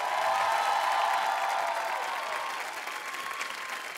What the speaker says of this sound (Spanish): sta actuación increíble de Cami y de Jordan, más fuerte el aplauso para ellos, espectacular.